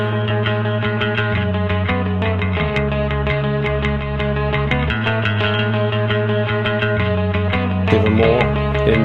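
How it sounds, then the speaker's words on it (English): Distorted, saturated music tone driven through a Pye Pynamic 500 PWM limiter compressor at a three-to-one setting, sustained harmonic notes with a gritty edge running steadily and loud throughout. "You can hear that distortion start to come through"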